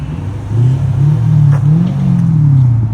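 A 2006 Lexus SC 430 with a 4.3L V8 and muffler delete rumbles at idle, then revs up into a deep, loud exhaust drone that holds and slightly wavers, close by and with no talking.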